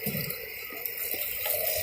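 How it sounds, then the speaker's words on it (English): Water running from a tap or being poured into a small pot for heating oatmeal at an Appalachian Trail camp, a steady close hiss of flowing liquid for about two seconds with no talk. "So I'm going to heat up a little bit of water for oatmeal."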